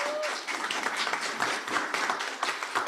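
A breakfast dialogue audience bursts into steady, dense applause, many hands clapping together at moderate distance and sustained throughout, with no voices over it.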